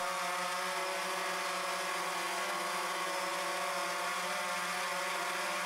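A DJI Phantom 3 drone's motors whir steadily in flight after liftoff, a continuous high buzzing with stable harmonic tones, heard alone and fairly close.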